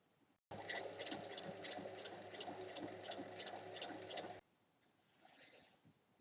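Sewing machine stitching a sleeve hem on a cotton T-shirt with a folded edge, a steady close mechanical whir running for about four seconds, then stopping, followed by a short faint hiss.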